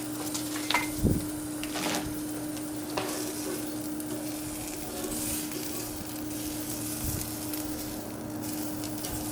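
Pancetta sizzles steadily in a pan with constant crackling and spitting, interrupted by a few clinks and scrapes of stirring, close and continuous.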